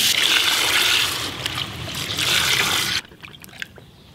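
Water poured over bird seed in a container to soak it for carp bait, a steady rushing pour for about three seconds, then stopping with faint drips and settling.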